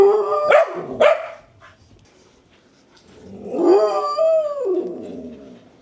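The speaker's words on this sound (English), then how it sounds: "He is a barker. A cattle puppy." A cattle dog puppy barks twice sharply up close, then lets out a longer, drawn-out howling bark.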